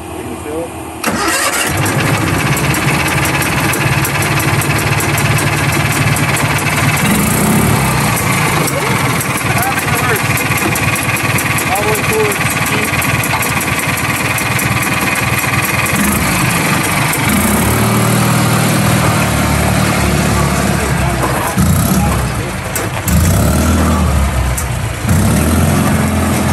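An old UTV engine runs hard and close, a steady mid-pitched mechanical drone with surging revs throughout, while people talk over it.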